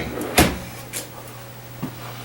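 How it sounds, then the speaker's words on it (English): Full-extension drawers in a 2015 Forest River Vengeance Touring Edition RV slide and bump shut, one sharp close up front followed by two softer knocks, over a faint steady hum. "you got drawers here, and these are full extensions on the drawers too"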